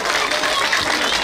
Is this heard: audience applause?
yes